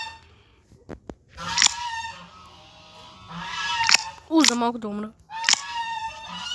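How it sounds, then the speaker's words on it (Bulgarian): A duck gives several loud, nasal honking quacks in short bursts, close by, between stretches of quiet and a person speaking. "Това е патката."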